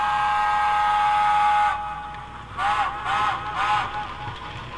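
A mid-range steam locomotive voice from a Tsunami2 model train sound decoder: a sustained chord whistle blows for under two seconds, then several shorter rising whistle blasts follow in quick succession over a steady chuffing background.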